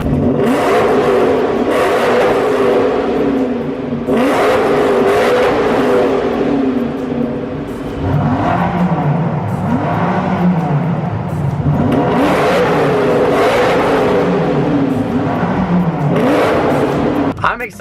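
A Lamborghini Huracan and a BMW M5 trade loud, close engine revs in repeated rising and falling bursts.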